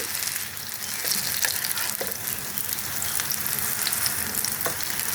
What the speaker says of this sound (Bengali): একটু ভাজা হয়ে গেছে, এখন আমি উল্টে দেবো।